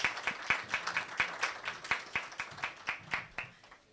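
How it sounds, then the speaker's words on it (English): Audience at a cybersecurity leadership forum clapping for a panel, a modest crowd with distinct individual claps in a fairly steady rhythm that thins out and fades at the close. "A round of applause for them, please."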